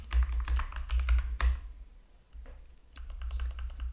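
Fingers typing on a computer keyboard: a close burst of quick, crisp key taps, a short pause, then a lighter run of keystrokes, with no one speaking.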